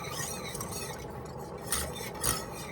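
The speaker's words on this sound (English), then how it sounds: "I'm going to switch to a smaller whisk because that thing's driving me nuts." A small whisk stirring macaroni and cheese in a pot, soft repeated scraping and swishing with a couple of light metallic clinks near the end, quiet and without talk.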